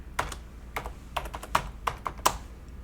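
Keys tapped on a computer keyboard, about a dozen quick clicks in short bursts, close and crisp in a quiet room.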